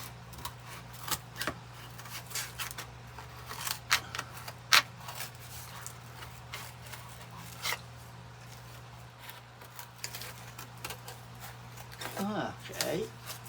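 Scissors cutting around a Christmas boot craft shape, scattered snips and paper rustles at an uneven pace, close by over a steady low hum.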